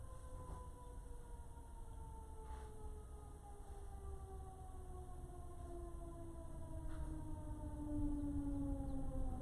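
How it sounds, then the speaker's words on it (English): An ambulance siren passes along a busy street, a faint, slowly wavering wail over low traffic rumble that rises slightly toward the end. "I can hear an ambulance in the background"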